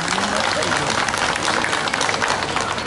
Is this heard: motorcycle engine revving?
no